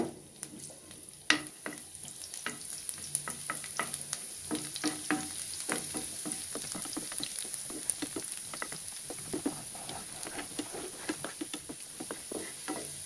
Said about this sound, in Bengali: আর লইছি রসুন কুচি। এখন এটা তেলের মধ্যে দিয়া দেব।